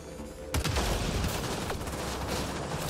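Plasma gun firing in Mass Effect Andromeda: a rapid, loud volley of crackling shots that begins abruptly and keeps rattling on with steady intensity over a low rumble.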